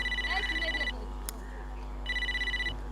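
A telephone rings in two bursts of repeated electronic trilling, loud and close, separated by a pause that carries a faint background hum and a brief click.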